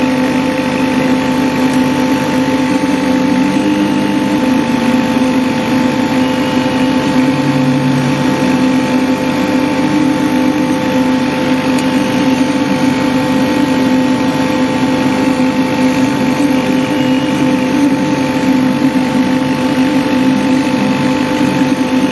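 A K40 laser engraver runs a first engraving test at 20 mm per second and 7 milliamps, giving a steady continuous hum with a faint whine, unbroken and fairly close.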